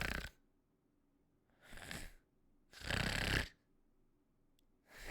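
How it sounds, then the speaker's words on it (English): A woman snores while asleep, three slow rasping snores separated by quiet pauses and a fourth beginning at the end, each breath close and fairly soft. "sometimes she just, like, she snores"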